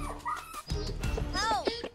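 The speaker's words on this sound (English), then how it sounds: "Oh, my poor dog." A sick dog at a veterinary clinic whimpers and yips in short, wavering high cries close by, mixed with busy background sounds and some talking.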